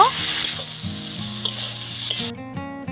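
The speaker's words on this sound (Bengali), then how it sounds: "এবার সব কিছু নেড়ে খুব ভালো করে মিশিয়ে নেব" Steady sizzling of spice paste frying with a little water, soft scraping and stirring, close by, a low tonal hum running underneath throughout.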